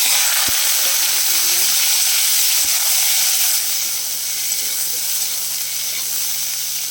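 Steady loud hiss of cut vegetables and gourd frying in hot oil in a pan, a continuous close sizzle that eases slightly toward the end, with a few faint knocks underneath.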